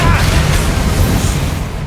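A Bombarda blasting spell in Hogwarts Legacy goes off with a loud, heavy boom that rolls into a thick, rumbling blast, booming low throughout the combat.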